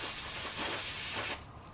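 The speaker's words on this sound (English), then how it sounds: "spray some brake clean on a rag here and kind of clean some of this up" Aerosol brake cleaner sprayed onto a rag, a steady close broadband hiss lasting just over a second before cutting off to quiet background.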